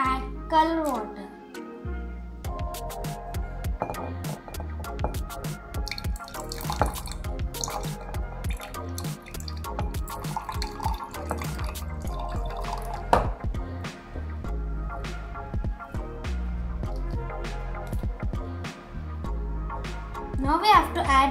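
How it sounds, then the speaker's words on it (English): Coloured water trickles and drips into a glass already holding honey for a layered liquid density experiment at home, giving small splashes and drips while someone talks over it. "Now we have to add color water."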